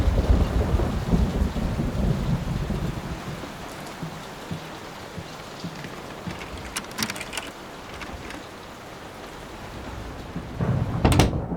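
Steady rain pours throughout a Layers of Fear storm, with a low rumble of thunder early on and sharper cracks of thunder around the middle and at the very end, with no talking.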